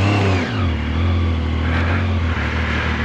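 A Zontes 703F motorcycle rides on a winter road, its engine droning loudly and steadily with a rising pitch as it accelerates, close and continuous with wind rush and no talk.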